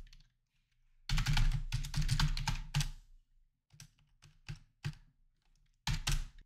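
Password being typed on a computer keyboard: a rapid run of close, crisp keystrokes, then a pause and scattered single taps, ending in another short flurry, with no voices.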